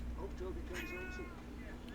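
Chance and Ringo, two cats in the video game Alan Wake, give a single short meow amid a low background hum, with a human voice also present.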